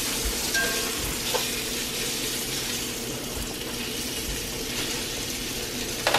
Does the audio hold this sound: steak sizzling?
yes